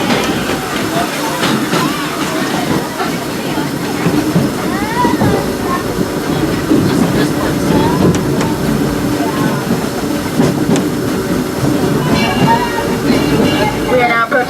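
Disneyland Railroad train in Anaheim, California, rumbling steadily along the track throughout, with rail clatter, squeals and a conductor's voice over the onboard sound.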